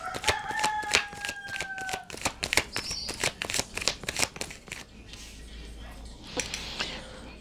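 Playing cards are handled close by, with a run of quick crisp flicks and snaps, then scattered softer riffles and slides that fade toward the end; faint background tones come in briefly.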